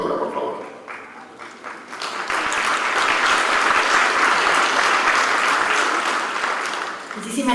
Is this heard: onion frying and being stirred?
no